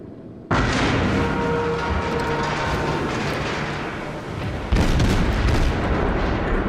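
Naval gunfire hits a ship in the World of Warships video game, a dense, rumbling barrage of booms that starts abruptly, holds heavy and continuous, then surges again with another loud impact.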